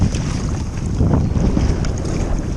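Kayak paddling across 2 to 3 foot waves off the Florida coast, with constant loud wind buffeting the microphone and rushing, splashing water throughout.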